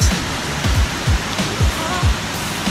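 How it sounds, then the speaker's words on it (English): Coomera Falls in Queensland pours as a loud, steady broadband roar heard from a lookout, with rhythmic low thumps, likely wind or handling bumps, recurring through it and no clear speech. "I will show you now here in Coomera Falls."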